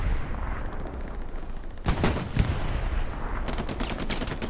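Rapid bursts of small-arms and machine-gun fire in the World War II shooter Hell Let Loose, a steady crackle that grows into sharper, louder volleys near the middle and a dense close rattle toward the end.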